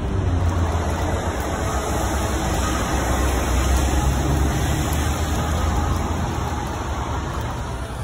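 A truck pulling a trailer rolls along a smooth road in New Jersey, giving a steady, loud low engine drone and road rumble that holds even throughout, with no talking.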